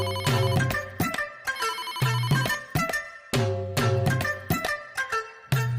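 A phone ringtone plays as a call goes through, a loud, close, melodic electronic tune repeating in short bursts with brief gaps, alone without speech.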